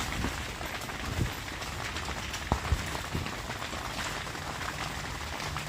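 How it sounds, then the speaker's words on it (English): Sleet falls on a luxury tent at a hostel, a soft, dense patter spread evenly throughout with a few slightly louder drips standing out. "it is currently sleeting outside on top of my luxury tent"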